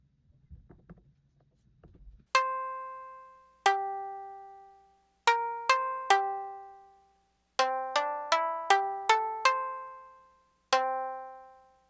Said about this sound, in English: gonna go to the Shamisen,